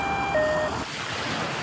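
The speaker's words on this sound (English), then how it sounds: "ambulance" Animated children's ambulance siren, a loud wailing tone with steady pitched notes that cut off partway through, leaving a broad noisy rumble behind.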